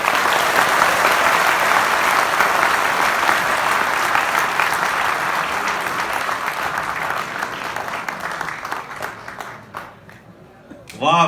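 Loud, sustained audience applause fills a live comedy show, a dense crowd clapping near and steady before tapering off toward the end, with a brief voice at the close.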